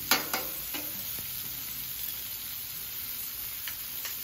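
Soft cinnamon-sugar peach slices cook on a flat griddle, a gentle, even sizzle after a few light clicks at the start, close and fairly quiet.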